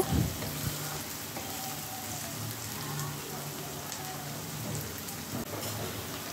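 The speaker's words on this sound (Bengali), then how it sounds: "তো আমি 3 মিনিটের মতো এটাকে নেড়ে ভেজে নিব" Dried shrimp (chingri shutki) stir-fried with potatoes in a pan, giving a dense, steady sizzle that runs throughout, close and fairly loud, with faint talking mixed in beneath it.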